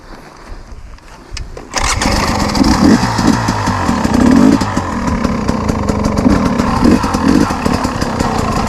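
A 2021 KTM 250 XC-W two-stroke dirt bike starts after a quiet moment and then runs loud and close, its engine buzzing and revving unevenly as it is ridden.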